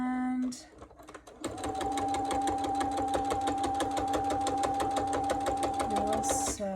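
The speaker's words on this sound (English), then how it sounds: "we will sew to the corners" A sewing machine stitches fabric, running toward the corners after a backstitch, with a steady, rapid, even mechanical whir that stops near the end.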